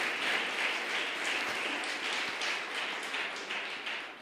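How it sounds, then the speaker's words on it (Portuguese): A church congregation applauding at a service, steady dense clapping from many hands filling the room at moderate distance, continuing unbroken for several seconds. "Você pode aplaudir o nome do Senhor?"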